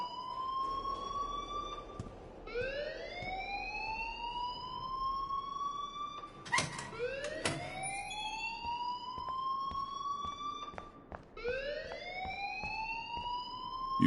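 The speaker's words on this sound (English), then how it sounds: "please turn off that alarm since that's your job" A fire alarm wails in the Life is Strange video game, its rising whoops repeating every few seconds, loud and piercing, with a sharp knock partway through and no voices.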